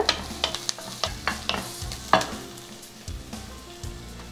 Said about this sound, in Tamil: இது கூடவே மூணு பூண்டு மூணு பல் பூண்டு ரெண்டு பச்சை மிளகா இதெல்லாத்தையும் நல்லா வதக்கிக்கோங்க